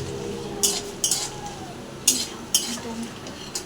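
Lentil dumplings (bori) are stirred in a pan for a brinjal, potato and drumstick curry: several sharp metal spoon scrapes and clinks against the pan come at irregular intervals over a faint sizzle, close up, with no voices.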